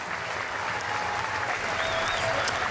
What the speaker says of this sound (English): A round of applause for the nuggety back rower.